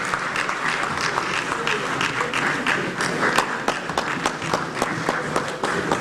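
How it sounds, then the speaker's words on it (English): Applause for Reverend John Ntim Fojo at an inter-parliamentary conference, a steady hall full of clapping with sharp individual claps standing out against the crowd noise. "Please, a round of applause for my younger brother"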